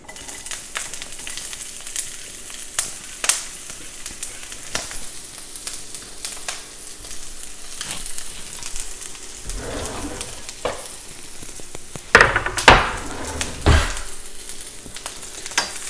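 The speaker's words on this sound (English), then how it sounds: "what you want to do is you want to go ahead and saute the garlic and onion" Garlic and onion sauté in a pot over low heat for a Jamaican-style chicken curry, giving a soft, steady sizzle with a few sharper clatters and stirring scrapes partway through.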